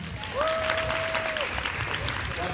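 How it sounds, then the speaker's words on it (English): An audience applauds for Jasmine with a soft, steady wash of clapping, while a sustained whistle-like tone and crowd murmur sit over it. "Give a round of applause to Jasmine."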